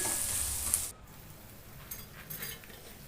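Turmeric being stirred into ginger garlic paste in a hot pan, a soft hiss and scraping sizzle that fades after the first second into quieter, intermittent stirring scrapes.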